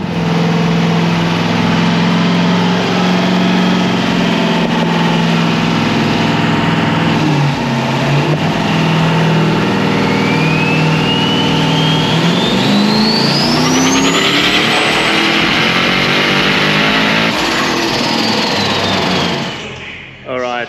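A Nissan R34 Skyline engine on a dyno revs hard and continuously, its pitch climbing steadily through a long full-throttle pull before cutting off near the end, with voices talking over the loud drone.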